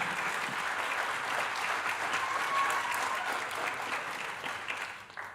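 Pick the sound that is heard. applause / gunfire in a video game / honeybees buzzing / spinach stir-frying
applause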